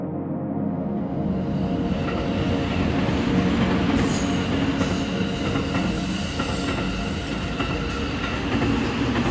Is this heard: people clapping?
no